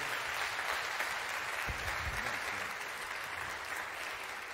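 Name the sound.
congregation applause for the Lord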